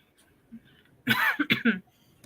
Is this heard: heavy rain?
no